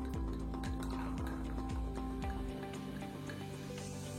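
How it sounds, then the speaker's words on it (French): Prosecco poured into a spritz cocktail glass, a quiet bubbling trickle with a few gurgling pulses at first, then a softer fizzing stream, close and faint with no talk. "Ensuite, la même dose en Prosecco."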